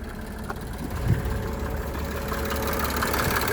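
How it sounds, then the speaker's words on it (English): A 1987 Mercedes 300SDL diesel engine settles into a steady, fairly quiet idle, a low even clatter after a brief bump near the start. "I'll go ahead and fire up the engine, show you that there's no blow-by."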